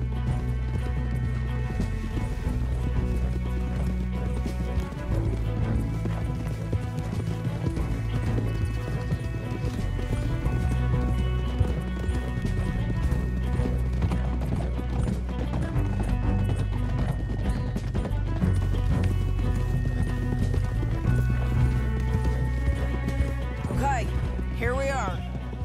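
Horses galloping in Red Dead Redemption 2, a steady rhythmic clip-clop of hooves running beneath a loud music score and game sounds, with a voice speaking over it.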